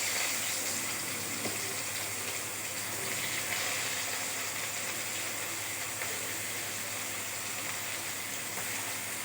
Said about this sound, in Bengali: এবার আমি পেঁয়াজ আর রসুন কুচিটা দিয়ে দেবো।